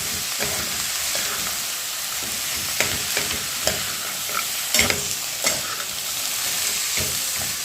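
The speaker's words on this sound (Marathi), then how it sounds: "आता हे मसाल्यात एक मिनिट सगळं भाजून घ्यायचं" Mixed vegetables are stirred and roasted in masala on a low flame, with a soft continuous sizzle broken by repeated scraping and clattering strokes of a spoon against the pan, close by.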